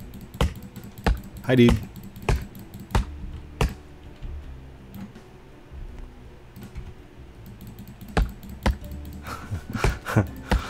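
Typing on a computer keyboard during Roblox Lumber Tycoon 2 play, sounding as scattered sharp key taps in short bursts, close and fairly loud, with a brief spoken greeting.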